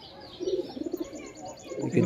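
A black Jiriya pigeon coos in a few soft, throaty pulses up close, rising again toward the end.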